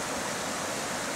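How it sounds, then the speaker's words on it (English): Creek water rushes steadily past a beaver dam, a dense, close, continuous broadband flow with no voices over it. "That's a creek."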